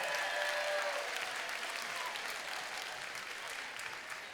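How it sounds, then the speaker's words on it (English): An audience at a FIRST Robotics Competition opening ceremony applauds and cheers, dense clapping filling a large hall, loud at first and gradually tapering off. "Everyone cheer for those people because it's their first time here."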